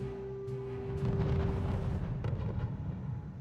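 Artillery barrages rumble through a real-time strategy battle in R.U.S.E., a steady low booming roar with a few sharper blasts layered over continuous distant gunfire, no voices present.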